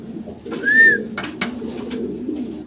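A pair of Dragon pigeons give a soft, close coo with a rising-falling whistle-like tone, then a few short rustles and taps over a low steady hum.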